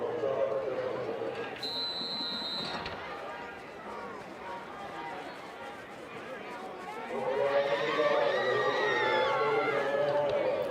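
Crowd noise at the Shrine Bowl of the Carolinas football game, a steady distant roar that rises louder near the end, heard beneath ongoing commentary.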